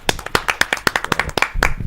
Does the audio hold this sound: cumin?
no